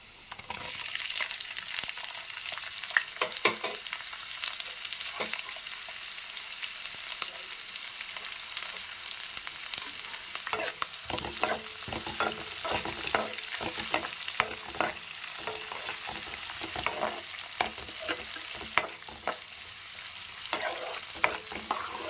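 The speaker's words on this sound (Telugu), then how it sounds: "ఇప్పుడు ఇవి కొంచెం చిటపట్లాడేదాకా అలా ఫ్రై చేసేసి చక్కగా అయితే ఇప్పుడు మనం ఆనియన్స్ కరివేపాకు వేసేద్దామండి." Onions and curry leaves fry in a hot pan, a dense steady sizzle with frequent scraping and stirring clicks throughout, close and without talk.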